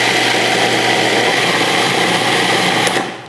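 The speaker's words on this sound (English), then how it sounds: "so now you're just gonna blend this." A blender whirs loudly and steadily, mincing garlic for a raw sunflower seed taco spread, a continuous motor drone that cuts off sharply at the end, with no talking.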